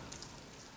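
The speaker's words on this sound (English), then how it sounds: "Too bad it's raining." Light rain falling outdoors, a soft steady patter with a few faint drop ticks, quiet and continuous with no talking.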